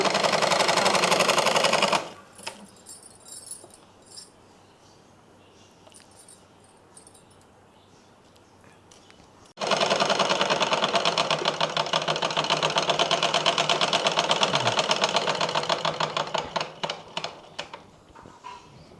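A sewing machine stitches fabric for churidar pants, running in loud, steady bursts: a short run at the start, a quiet pause with faint handling noise, then a long continuous stretch of whirring stitching.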